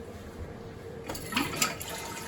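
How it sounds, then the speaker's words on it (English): A toilet is flushed while a waxless toilet seal is being installed, emptying the tank. After about a second of quiet, rushing, gurgling water starts and keeps going to the end. "you're going to want to flush the toilet."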